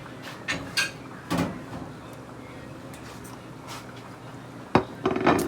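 Dishes clatter in a kitchen as a plate is pulled out, a few sharp clinks and knocks spaced apart, fairly close and moderately loud with no talking.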